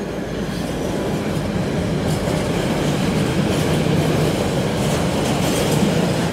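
A long freight train rolls past close by with a loud, steady rumble and rattling wagons throughout.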